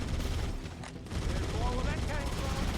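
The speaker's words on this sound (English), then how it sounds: "there's the original needler sound" The original needler weapon in a Halo video game fires in a dense, continuous stream of sharp shots and whizzing projectiles, mixed with other game-combat noise and some talking.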